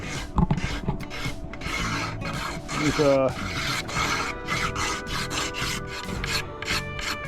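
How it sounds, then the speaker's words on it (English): Sandpaper rasps back and forth across varnished wood in steady rubbing strokes, close and fairly loud, with a brief squeak partway through. "I'll just do a light sanding on that"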